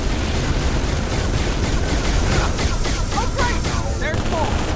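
Steady, loud turret gunfire from Halo 3 on legendary difficulty keeps hammering throughout, with blasts and battle noise layered in.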